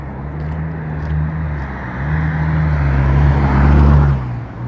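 Road traffic with cars rolling past, a steady low engine and tyre rumble that swells and fades, loudest toward the end, with no voices.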